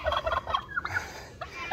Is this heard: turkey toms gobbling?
yes